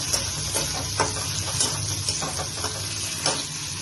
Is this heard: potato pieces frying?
yes